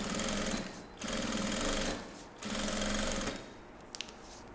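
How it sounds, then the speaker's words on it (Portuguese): A sewing machine runs a straight seam on a fabric clothes organizer in three steady whirring bursts with short pauses between, close and alone. "venho costurando reto"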